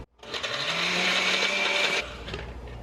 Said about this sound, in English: this is what we have going on in the blender